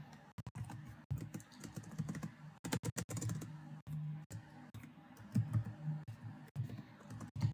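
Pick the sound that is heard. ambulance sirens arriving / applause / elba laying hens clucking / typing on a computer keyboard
typing on a computer keyboard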